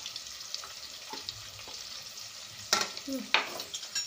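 Plenty of sliced onion fries in a pan for an egg chicken biryani, a soft constant sizzle broken by a couple of louder stirring clatters and scrapes late on, heard up close without any voices.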